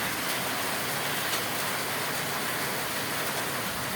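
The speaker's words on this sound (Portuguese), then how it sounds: "A chuva começou" Heavy rain pours in São Paulo in a loud, unbroken broadband roar that stays level throughout, with no talk or distinct drops breaking through.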